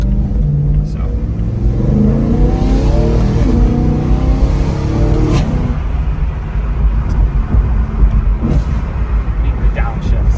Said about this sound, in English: Probably the best sounding downshift I've ever heard in any car ever.